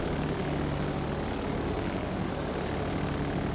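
Torpedo bomber aircraft in the naval game World of Warships: Legends, a steady droning propeller-engine roar held at constant loudness throughout, with no talk over it.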